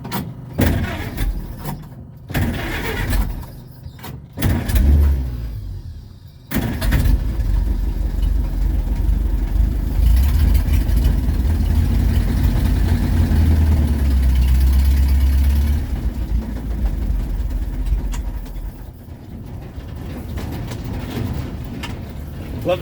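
A 1926 Chrysler car engine starts and runs at a steady idle, a loud low rumble that holds for most of the stretch after a few brief bursts and a short pause, with some faint talk early on.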